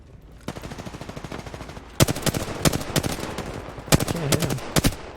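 Weapon gunfire in the video game Apex Legends: loud bursts of rapid automatic shots, several clusters separated by short pauses, close and dominant, with no talk over it.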